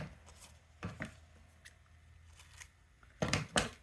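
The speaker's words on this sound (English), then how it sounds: "I'm going to cut that excess off." Scissors snipping excess paper at a crafting table, a few quiet, crisp cuts spaced apart, ending with two louder snips close to the microphone.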